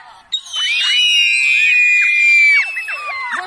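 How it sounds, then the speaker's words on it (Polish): A high-pitched, sustained scream rings out loudly for a few seconds, with overlapping shrill voices of children screaming together. "I wrzeszczymy."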